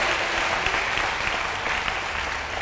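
A church congregation at a Sunday service applauds steadily throughout, a dense, even wash of many hands clapping at moderate distance with no break, with faint cheering mixed in.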